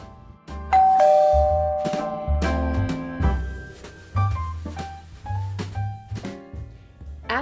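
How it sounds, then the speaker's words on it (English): A doorbell chimes in bright, ringing ding-dong tones repeated several times over a music bed, loud and clear as a sound effect in a read-aloud Christmas crocodile story. "And sure enough, the doorbell rang."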